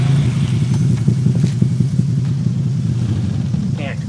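Ducati motorcycle engine from Tomb Raider Legend, a loud, steady low rumble with rapid crackling pulses running throughout, no talk over it.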